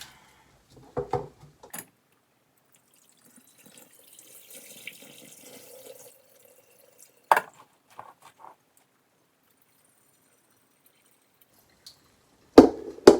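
Water from a faucet runs and splashes into a sink while soaked cabbage is rinsed for kimchi, with a few sharp bursts, quiet trickling stretches and louder splashes near the end.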